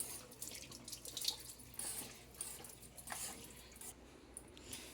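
Plates being washed under a running kitchen tap, with water splashing and dribbling faintly and unevenly in a quiet room; no talking.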